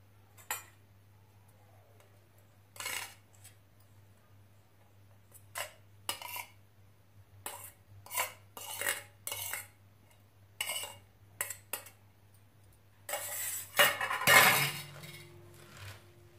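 Sliced spinach being mixed with green chili and garlic paste in a bowl for crispy palak bhaji: a spoon clinks and scrapes against the bowl in irregular bursts, ending in a louder clattering knock, and no voices.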